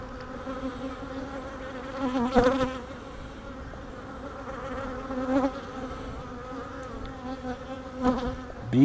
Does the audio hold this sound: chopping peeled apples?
no